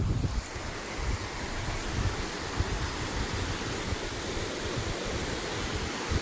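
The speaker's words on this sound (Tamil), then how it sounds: "ஆறோட சத்தம் கேட்குதுங்களா?" The Bhavani river at Athikadavu rushes steadily, a dense, continuous roar of flowing water with some wind buffeting the microphone and no voices.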